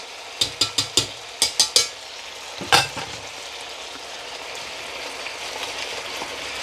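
A quick burst of washed pulses clattering into a frying pot, followed by one louder scrape and a steady sizzle that continues alone.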